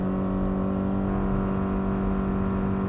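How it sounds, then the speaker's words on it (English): A 2024 Subaru Crosstrek accelerates hard with a steady, droning CVT whine and engine hum, heard continuously from inside the car with no talking. "That CVT is singing."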